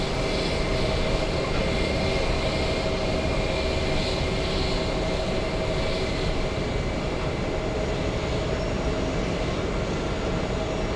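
A JetBlue airliner at JFK airport, a continuous broadband engine roar with faint tonal whine, steady and fairly loud with no speech.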